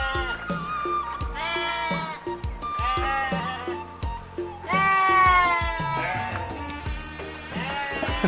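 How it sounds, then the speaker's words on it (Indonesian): Goats bleat repeatedly in a noisy chorus, several animals calling over one another at close range, with wavering, nasal cries throughout. "di sini banyak peternakan kambing juga,"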